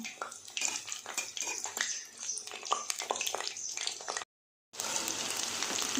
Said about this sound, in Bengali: এভাবে সব চিকেনগুলোকে ভেজে নেব